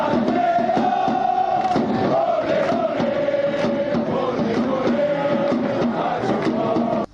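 Pordenone football supporters in a stadium crowd keep up a dense, continuous roar of chanting and cheering during the warm-up, loud and steady with rhythmic surges throughout.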